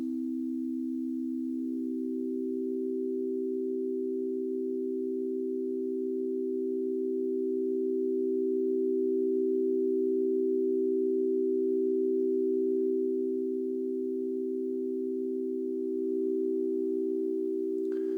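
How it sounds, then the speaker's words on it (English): Four crystal singing bowls ring together in a steady, shimmering drone of pure, sustained tones that swells slightly louder midway, with no talking. "So now I'm playing all 4 bowls without even touching them."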